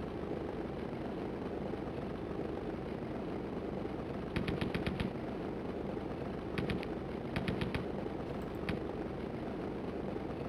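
Gunfire in the flying game Stunt Island, short rapid bursts of shots in several separate volleys over a steady engine drone, fairly faint, with no talking.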